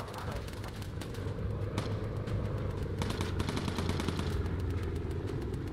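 A bomber gunner's machine gun fires in Bomber Crew, rapid rattling bursts over a steady droning engine hum, with distinct volleys repeating at moderate volume.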